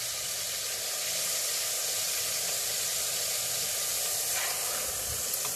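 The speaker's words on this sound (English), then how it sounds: "You don't have to do much, but you can hear it sizzle." Pork tenderloin searing in a hot pan gives off a steady, even sizzle and hiss that carries on for several seconds at moderate loudness, with no talking over it.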